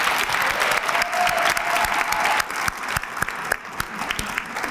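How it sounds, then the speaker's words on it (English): Sustained audience applause at a Black History Month closing ceremony honoring community members, a dense steady wash of clapping that thins slightly toward the end, with no talking over it. "please give all of these men and women a round of applause"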